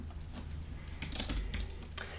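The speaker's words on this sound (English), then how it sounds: "we'll want to specify our zone by typing --zone equals and then our desired zone" Typing on a computer keyboard while entering a cloud command, a steady close run of key clicks with a few louder taps and no voices.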